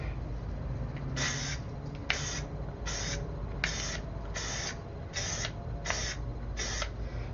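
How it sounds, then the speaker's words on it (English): A spray primer can hisses in eight short, evenly spaced bursts of about half a second each over miniature wargaming figures, close and crisp against a low background hum. "Now when I'm spraying, I start outside the lines, outside off the figure, and I hit the figures, and then I stop the spray once I've passed the figures."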